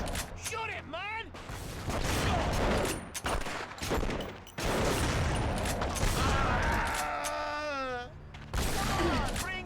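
Gunfire and chaotic combat noise in the PS3 game Folklore, with bursts of rapid shots, mechanical clanks and swooping, warbling creature-like tones, loud and dense with brief drops, alongside voices.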